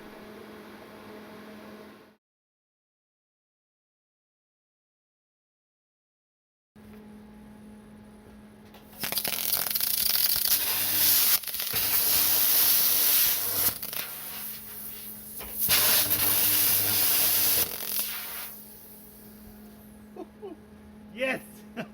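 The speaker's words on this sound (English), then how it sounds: "Upon turning on the plasma cutter for the first time, the fuse is no longer blowing and everything seems to work fine." A plasma cutter hooked to an air compressor on its first test run after a blown-fuse repair, giving a loud broadband hiss and roar that starts abruptly, pulses for several seconds with brief dips, then cuts off, after a stretch of silence.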